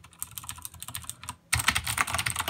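Rapid clicky keystrokes on a Razer mechanical keyboard, quieter at first, then a pause and a denser, louder burst of typing close by.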